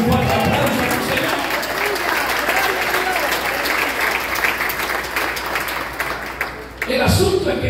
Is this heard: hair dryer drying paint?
no